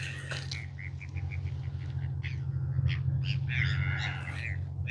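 Birds calling by the ocean at Tyee Spit, Campbell River, give repeated short chirps and squawks, some in quick bursts, moderately near over a steady low rumble of wind or surf.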